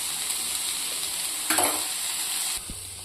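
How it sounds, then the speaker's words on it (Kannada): Onion and garlic sizzle in hot oil in a pan, a steady close frying hiss with a brief louder burst of stirring midway, no voices present. "ಈರುಳ್ಳಿ ಬೆಳ್ಳುಳ್ಳಿ ಹಾಕೊಂಡು ಹುರ್ಕೋಬೇಕು."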